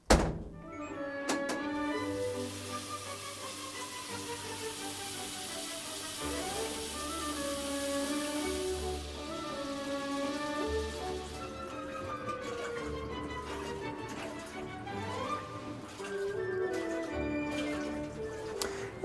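A washing machine runs a rinse cycle with a pair of jeans inside, its motor whining up and down in pitch under soft thumps and sloshing water.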